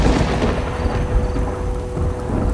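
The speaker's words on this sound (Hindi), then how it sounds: "लेकिन तभी फिर से एक बार जोरदार बिजली गिरने की आवाज आई।" Heavy thunder from a lightning strike rolls loudly and continuously through a downpour of heavy rain, with no voices.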